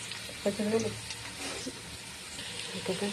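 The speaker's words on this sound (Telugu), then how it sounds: "ఆయిల్ వేడెక్కిన తర్వాత ఆనియన్స్ వేస్తున్నాం" Onions fry in hot oil for a fish curry, a soft steady sizzle running underneath a person speaking over it.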